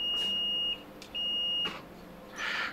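A multimeter sounds a continuity beep while probing a short to ground on a MacBook Air logic board. The high steady tones come twice in quick succession, moderately loud, with light probe taps and scraping between them.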